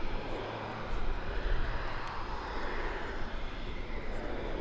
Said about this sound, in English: Single Pratt & Whitney Canada PT-6A turboprop of 950 shaft horsepower driving this machine.